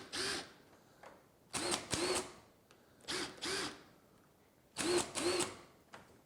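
Makita XDT13 and Ryobi impact drivers run in turn, giving five short buzzing bursts of about half a second each in paired groups, close and moderately loud, with quiet gaps between them.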